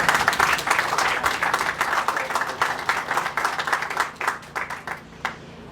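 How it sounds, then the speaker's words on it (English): Crowd applause at a groundbreaking ceremony for the Weingart Center's 600 San Pedro project, a dense burst of clapping that gradually thins and fades out near the end. "please give them another round of applause"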